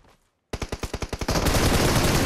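Automatic rifle fire in PUBG Mobile: a sharp burst of about eight evenly spaced shots follows a short near-silent gap, then merges into sustained, dense, loud gunfire.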